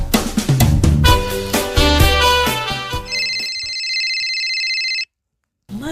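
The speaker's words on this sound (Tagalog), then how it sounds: "itaypay lang agun unay ti cellphone mo di tarabaw ti lamisaan" A cellphone lying on a table rings with a melodic ringtone of quick bright notes, then a sustained electronic tone before it cuts to silence, heard alone and close.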